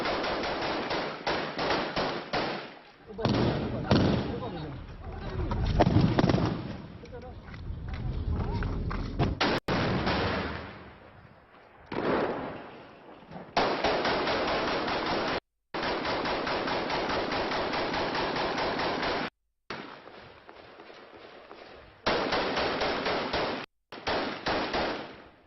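Gunfire exchange between Kurdish forces and IS fighters: repeated bursts of rapid automatic fire and single shots crackle in loud clusters separated by brief pauses, with someone talking between and under the shooting.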